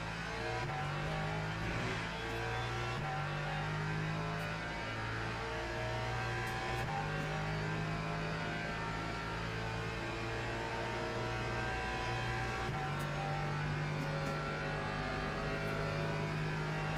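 Hypercars in the racing game Le Mans Ultimate roar past one after another, engines droning and shifting pitch with steady revving and occasional tire squeal, loud and continuous throughout.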